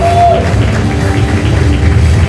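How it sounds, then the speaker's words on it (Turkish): A crowd at an award ceremony applauds loudly and steadily, dense continuous clapping with a murmur of voices and a brief tone at the start. "Alkışlarınızla."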